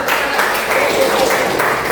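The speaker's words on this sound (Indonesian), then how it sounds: "Tepuk tangan." Applause from a classroom of students, a short dense burst of clapping that holds steady for about two seconds with some voices mixed in.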